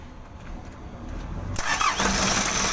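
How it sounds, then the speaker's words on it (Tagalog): A Hino 300 diesel truck that had suddenly stalled cranks briefly, then its engine catches and roars into a loud, rough idle, heard up close. "umaandar yung makina natin dahil tinulak ko yung vacuum"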